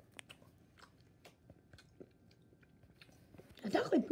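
A giant Hershey's chocolate kiss is bitten and chewed close to the mic, with quiet irregular crunches and mouth sounds, then a louder burst of noise near the end.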